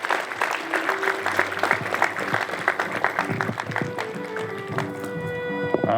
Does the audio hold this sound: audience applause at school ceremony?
yes